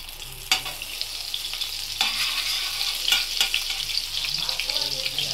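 Butter and white oil fry in a hot kadai with a loud, close, crackling sizzle, marked by a few sharp bursts as the fat hits the pan, and no voices.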